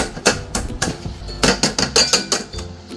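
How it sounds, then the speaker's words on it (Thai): A few sharp taps and cracks, probably eggs being cracked against a bowl for a Thai seaweed-wrapped omelette in a home kitchen, come as irregular close knocks with faint clatter between them. "เดี๋ยวตอกไข่กันเลยนะ"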